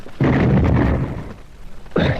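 A loud explosive boom bursts a door open in a radio drama, a thick low rumble swelling then fading, followed by a second burst near the end.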